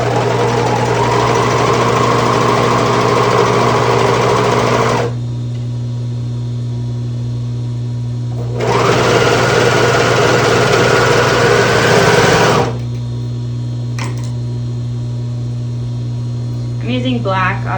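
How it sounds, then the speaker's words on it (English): An overlock machine stitches the top and bottom edges of a fabric origami KN95-style face mask in two loud, sustained whirring runs separated by a pause, with a steady low hum underneath throughout and a few faint clicks near the end. "So I just added this overlock just on this top and bottom"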